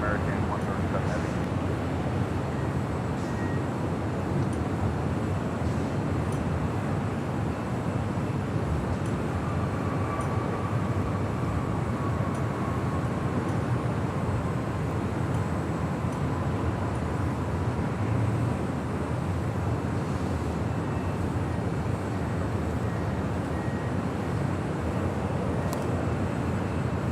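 An Aeromexico airliner at Los Angeles International Airport, south side, gives a steady, faint engine roar that holds throughout over a broad low hum, with occasional radio chatter audible.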